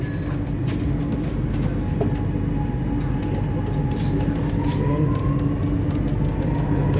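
A steady low rumble and hum of a Chennai metro train in motion, heard from inside the carriage, with a faint rising whine.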